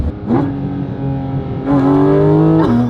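A Porsche GT4RS engine revs loud and close from inside the car while driving, its tone climbing steadily through the gears with brief dips at the shifts.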